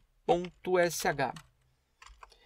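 A computer keyboard being typed on while a Linux gateway script is written, a few brief, faint clicks coming after someone speaks.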